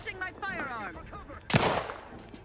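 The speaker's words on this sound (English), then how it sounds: "We can't shoot through there." Gunfire in the video game The Outer Worlds 2: a single loud, sharp shot bursts out near the middle, following game chatter and voices, with quieter activity trailing after.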